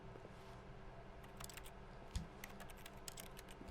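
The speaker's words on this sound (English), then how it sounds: "when I click the use button, there's like a keyboard typing noise, even though I'm not typing." Keyboard typing clatter from The Stanley Parable, a rapid run of light, fairly quiet key clicks over a steady low background hum, with no voices.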